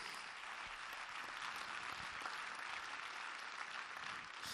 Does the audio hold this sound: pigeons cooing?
no